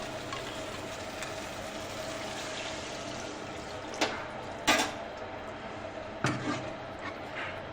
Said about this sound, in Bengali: এবার এর মধ্যে আমি মশলা ধোয়া জলটা দিয়ে দেবো।